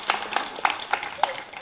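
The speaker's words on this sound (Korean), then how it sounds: "하나님께 감사의 박수 올려드립니다." A church congregation at a Sunday service gives a handful of separate, fairly faint hand claps in an uneven rhythm.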